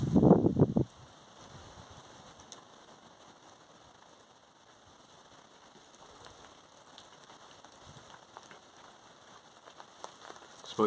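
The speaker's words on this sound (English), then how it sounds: "it's fucking raining." Steady outdoor rain patters on a surface, a soft continuous hiss of drops with a louder knock at the start and end.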